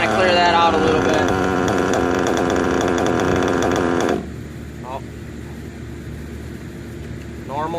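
A nitro RC engine during break-in screams at high revs on the throttle for about four seconds, then drops abruptly to a lower idle burble with brief throttle blips, while someone talks.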